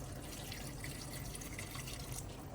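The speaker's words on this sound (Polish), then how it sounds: "więc dolewam trochę wody." Water poured into a thick pot of vegetable stew with courgette, potatoes and peppers: a soft, steady splashing trickle for a few seconds, fairly quiet and close.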